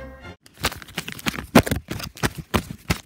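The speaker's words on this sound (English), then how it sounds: "Okay, next we have the crumpled paper." Paper is crumpled by hand close up, producing a series of sharp crackling bursts separated by short pauses.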